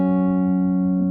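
A piano holds a single chord of pentatonic notes played only on the black keys, which rings steady and pure up close for about a second, with no talking.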